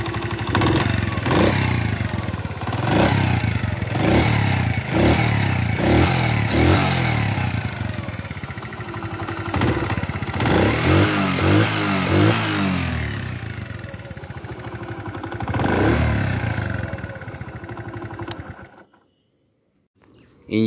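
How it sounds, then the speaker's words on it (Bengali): A 2002 Japanese Honda CD80 motorcycle engine runs steadily close by, with a few throttle blips early on, then settles into an even idle before cutting off near the end. "এখন আমরা গাড়ির ইঞ্জিনের সাউন্ড শোনাবো আপনাদেরকে।"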